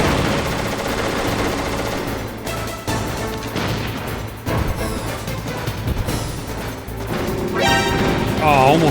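Metal Gear Solid gunfire in rapid, loud bursts with crashing impacts and game effects layered over a busy, continuous battle soundscape.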